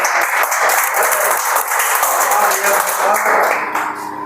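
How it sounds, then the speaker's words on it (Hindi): Loud, dense applause from a seated audience at a magnetic-therapy product demonstration, continuous and fairly close, holding steady before tapering slightly at the end. "उनके सम्मान में जोरदार तालियां बजाएं"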